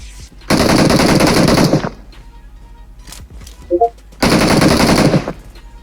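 Two loud bursts of sustained automatic M4 rifle fire from the PUBG Mobile battle royale game, each lasting over a second, separated by a short pause with a faint thud in between.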